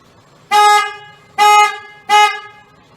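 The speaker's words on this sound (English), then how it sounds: "honk the horn 3 times" A car horn honks three times, loud and close, each blast short, with brief pauses between.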